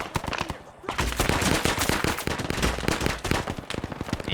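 Dense, rapid gunfire in a Vietnam War shooter game, with overlapping automatic bursts and cracking shots crowding together almost nonstop, loud and close.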